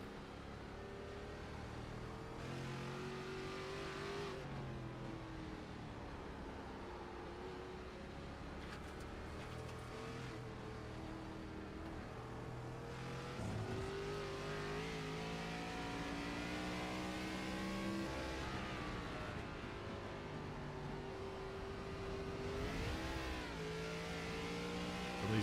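Race car at Lime Rock Park, driven hard on the throttle, with a loud, continuous engine howl that climbs and falls through gear changes over about 25 seconds, steady and close, with no speech.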